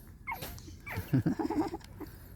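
Several young puppies, just days old, give short high yelps and whimpers in a quick irregular burst, close by and fairly loud, with no talking.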